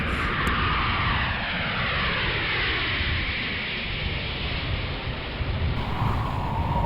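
Airplane on final approach to Paro International Airport in Bhutan, between mountain walls, heard as a loud, steady broadband engine and air roar that holds throughout with a slowly shifting tone and no voices.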